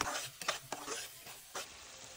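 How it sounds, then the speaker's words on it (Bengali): Spices fry in oil in a pan while a spatula stirs them for muri ghonto, a fish-head and rice dish. Several quick scraping strokes cut through a soft, steady sizzle, close up, with no voices. "মশলাগুলো ভালো করে তেলের সাথে নেড়েচেড়ে কষিয়ে নিচ্ছি।"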